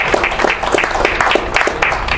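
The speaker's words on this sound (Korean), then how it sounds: "박수로 환영합시다." Close, lively applause welcomes a guest at an international diplomacy and security forum: a small audience claps in quick, uneven bursts for a couple of seconds, loud and near, with no speech over it.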